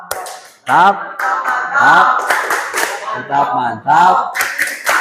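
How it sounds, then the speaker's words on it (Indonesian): A school class claps together in sharp, rhythmic bursts as part of a chanted clap routine, with children's and a teacher's voices calling along between the claps, close and loud. "Tepuk tangan buat kita semua."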